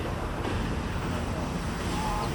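Ocean waves roll in against rocks as a continuous, loud wash of broadband surf with wind noise on the microphone and no talking.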